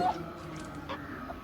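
Fayoumi and Brahma chickens give a few soft, faint clucks, one short call near the start, against a steady low background murmur.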